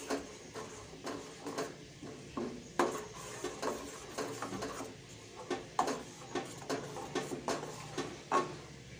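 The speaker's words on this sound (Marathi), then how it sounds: "आता टमाटरची पेस्ट आणि हा गरम मसाल्याची पेस्ट छान अशी तेल सुटेपर्यंत आपल्याला परतून घ्यायची आहे" Tomato paste and garam masala paste cooking in oil in a pan for dahi kofta curry, with a spoon scraping and tapping against the metal in irregular clusters of sharp clicks over a faint frying hiss.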